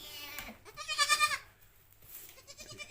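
Fifteen-day-old goat kids bleat on a goat farm, kept indoors out of cold, cloudy weather: one loud, wavering bleat close by, with softer calls before and after.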